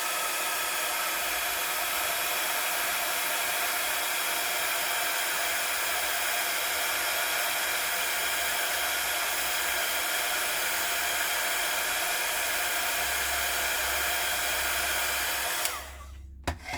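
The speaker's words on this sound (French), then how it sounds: "je vais faire du bruit, mais c'est pour embosser la lettre" A heat embossing tool blows with a steady, loud, hissing roar for about fifteen seconds while embossing a wooden letter, then cuts off abruptly.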